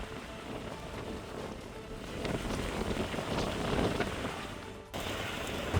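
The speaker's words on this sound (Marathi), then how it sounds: "या परिसरामध्ये पावसाची संततधार पाहायला मिळत आहे" Steady rain falls continuously at Kas dam in Satara district, a dense even hiss with gusty wind noise, swelling slightly midway and cut briefly near the end, with no voices.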